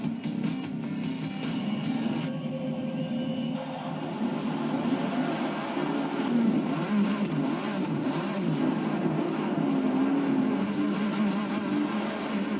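Porsche race cars accelerating at Daytona in the racing game Forza 6; a loud, continuous engine drone with rising and falling revs and gear changes, several cars close together, no talking.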